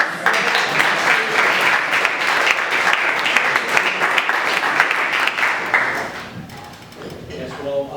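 An audience at a talk on the 1986-1987 MU shantytown occupation and South Africa divestment claps steadily for about six seconds. Then the clapping fades and a voice begins speaking.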